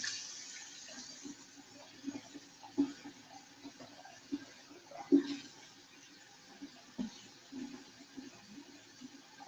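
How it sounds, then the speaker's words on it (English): Tap water runs into a bathroom sink as someone rinses their face, quiet steady flow broken by several splashy bursts of hands scooping water, close and without talk. "I got to rinse my face off"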